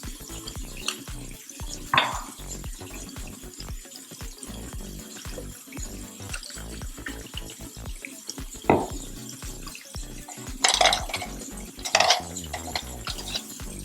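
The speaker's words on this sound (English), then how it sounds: "go ahead and rinse off these smaller makeup brushes" Makeup brushes rinsed under a running tap at a sink, a steady trickle of water with occasional louder splashes and brief clatters, nearby and with no talking.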